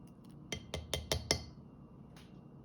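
Banana pudding batter being mixed in a bowl, heard as a quick run of five sharp utensil clinks against the bowl's side, then a pause and one more clink, close and fairly loud with no talking.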